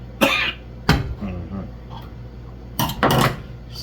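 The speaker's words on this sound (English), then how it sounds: "I have a little cough going on from Sunday" Several sharp coughs from a person cooking stew fish in a home kitchen, one near the start, another about a second later, and a cluster of two or three near the end, close and fairly loud.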